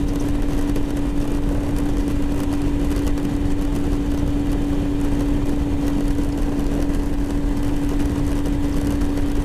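A 125cc motorcycle engine runs steadily while being ridden on a country outing in Brittany, giving a continuous mid-loud drone with a steady hum and wind rush, with no voices over it.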